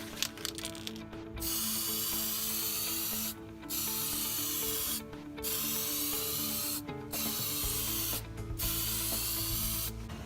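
Aerosol anti-corrosion coating sprays onto HVAC circuit boards in four or five steady hissing bursts of about one to two seconds each, with short pauses between them, close and moderately loud over a low hum.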